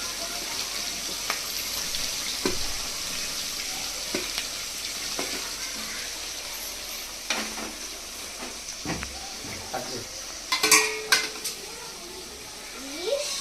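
Green chilies and curry leaves sizzle and hiss steadily in hot oil in a pan while chicken pakodi is being fried, with occasional utensil clinks and a sharper burst of spattering near the end.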